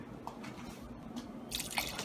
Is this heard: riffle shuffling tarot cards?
no